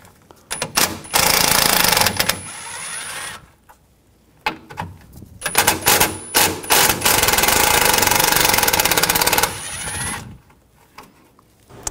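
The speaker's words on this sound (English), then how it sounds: "Take these two bolts out," Ratchet or impact socket wrench with a 10mm socket backing out two bolts on a 2016-2022 Honda HR-V during A/C condenser replacement; loud bursts of rapid mechanical rattling come in two main runs, separated by brief quiet pauses.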